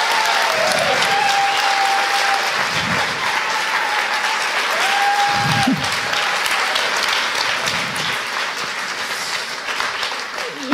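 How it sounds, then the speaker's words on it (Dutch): Warm audience applause in a Dutch debate venue as filmmakers come onto the stage after a screening, sustained crowd clapping throughout, with faint voices and a brief tone now and then. "En geef ze een hartelijk applaus."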